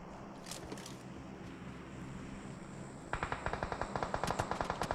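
Automatic gunfire in the PUBG Mobile video game: after about three seconds of low ambient noise, a rapid, loud string of evenly spaced shots runs to the end.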